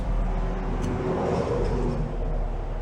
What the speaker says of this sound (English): Sorry about the traffic, guys.